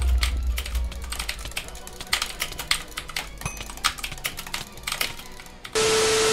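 A computer keyboard's spacebar and keys are tapped rapidly and irregularly while playing a timing game, a dense close clatter of clicks that ends in a sudden steady hiss.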